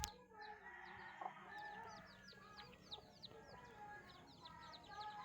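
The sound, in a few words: chicken clucking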